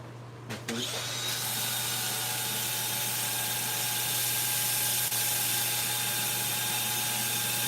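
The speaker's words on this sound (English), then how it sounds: "So I'm going to do a little hand sanding here to try and take some of that out of there." Steady hand sanding of a spinning wood piece on a lathe gives a constant broadband hiss over the motor's low hum, starting after a brief knock and running loud and unbroken to the end.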